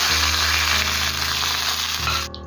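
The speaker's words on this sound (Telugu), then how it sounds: "ఒక 1 tea spoon kasuri methi add చేయండి. బాగా ఫ్రై అవ్వాలి." Kasuri methi fries in a pan with a loud, close, continuous sizzle under a low steady hum, fading out abruptly at the end.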